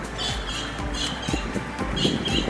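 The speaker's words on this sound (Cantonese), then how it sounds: "這隻叫聲就是漁翁鳥" A kingfisher calls in a mangrove forest, several harsh, squawking bursts at a moderate distance, repeated at a loose rhythm over a steady low hum.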